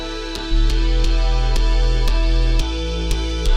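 Color bass running through a chord-loaded convolution reverb in parallel, heard as pulsing synthesized bass chords in a steady rhythm with sharp rhythmic clicks over a heavy sub layer. Loud and close, with no voice.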